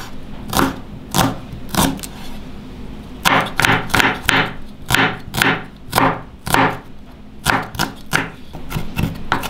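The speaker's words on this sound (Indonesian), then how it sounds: "Siung bawang merah kita cincang halus juga." Shallots are finely chopped with a knife on a cutting board, a close, loud run of sharp, rhythmic knocks in quick bursts with brief pauses between, and no talk.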